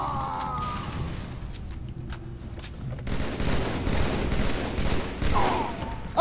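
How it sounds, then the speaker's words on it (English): Gunfire in Halo, scattered sharp shots and short bursts at moderate loudness over a low background rumble, closing on a sudden loud crack. "I heard my gun go off"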